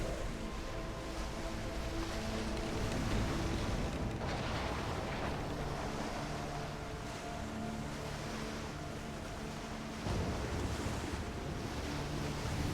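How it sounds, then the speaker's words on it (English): Stormy open sea in the pirate game Skull & Bones: continuous crashing waves and roaring wind fill the scene as a dense, steady wash, with no voices over it. "We are in a storm."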